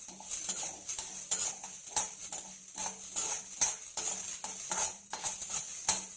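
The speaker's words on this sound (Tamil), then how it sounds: "இதை கொஞ்சம் நல்லா வறுத்துக்கோங்க" Masala spices dry-roasting in a kadai for chicken biryani, with regular scraping and stirring strokes of a metal spoon against the pan over a faint background sizzle, close and steady.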